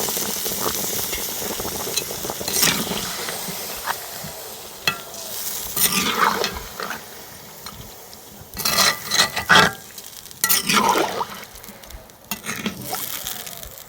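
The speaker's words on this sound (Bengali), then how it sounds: "এবার পরিমাণ মতন জল দিয়ে দেবো।" Chicken and cauliflower frying in a pan as water goes in, a close sizzle and bubbling broken by bursts of stirring and scraping, louder surges near the middle and end, with no voices.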